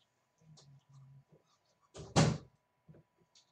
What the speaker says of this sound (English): Let me close the door for a minute so I can talk to you all.